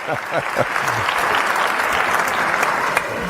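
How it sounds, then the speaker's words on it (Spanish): An audience at a talk gives sustained, even applause, a dense close wash of clapping that stays strong throughout with little voice beneath it. "El aplauso es para Mari Carmen."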